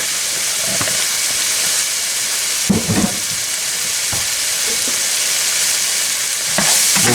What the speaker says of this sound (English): Move this around and let it cook until the tomatoes are cooked and the onions are cooked